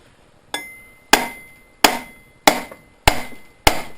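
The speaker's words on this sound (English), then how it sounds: "we're going to get a bigger hammer" Six sharp hammer blows strike a Kohler engine part during teardown in a workshop. They ring out close and loud at uneven intervals, each with a short metallic decay, and no one talks.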